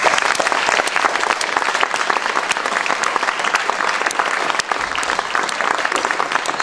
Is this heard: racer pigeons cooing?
no